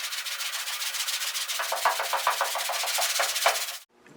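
Car body panel being hand block sanded with 220 grit sandpaper: a steady, close scratchy rubbing with quicker back-and-forth strokes toward the end, then stopping abruptly.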